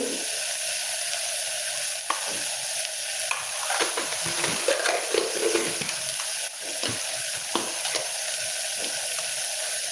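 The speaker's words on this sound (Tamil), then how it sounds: "இப்போ நமக்கு இந்த வெண்டைக்காயும் நல்லா வதங்கிடுச்சு" Okra sautéing in a clay pot, a steady close sizzle and hiss with occasional soft stirring scrapes and clinks running throughout, no voices.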